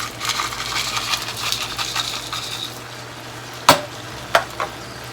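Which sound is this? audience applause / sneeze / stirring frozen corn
stirring frozen corn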